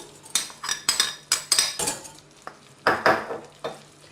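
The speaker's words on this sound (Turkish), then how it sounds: "2-3 dakika unu kavurmamız gerekiyor." Flour toasts in melted butter in a pot for a tomato soup, with a soft sizzle under repeated close, rhythmic scraping and clinking of a utensil against the pot as it is stirred.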